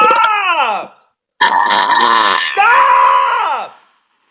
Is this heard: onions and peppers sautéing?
no